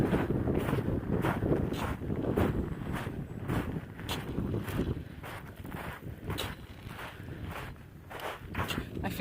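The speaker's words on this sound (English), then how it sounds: "There goes the wind." Gusts of wind buffet the microphone on a desert cove hike, coming in repeated rushing bursts over footsteps, loud and close.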